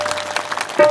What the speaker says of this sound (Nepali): ताली बजाएर स्वागत गरौँ